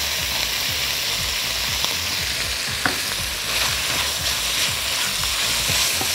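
Onions frying in a pan with tomato paste and sugar, stirred steadily, give a continuous close sizzle with rhythmic scraping strokes of the spoon throughout.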